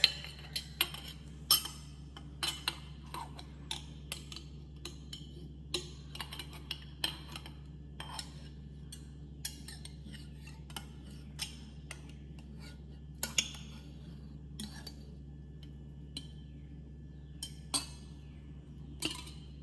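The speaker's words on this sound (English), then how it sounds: "to help shake my butter so I can get it out of my jar" Light clinks and taps against a glass jar as homemade butter is worked loose with a butter knife, irregular small knocks spread over a steady low hum.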